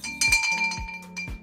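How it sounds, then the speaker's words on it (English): A small bell at a pottery demo is struck three times in an uneven rhythm, each bright metallic ring close and clear with a short decaying tail. "It's a bell."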